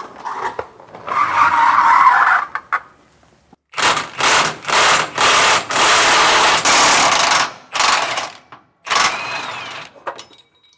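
Impact wrench loosening bolts underneath a Ford F-53 chassis, firing in a series of loud, separate bursts of hammering rattle with short pauses between them, preceded by a fainter early burst.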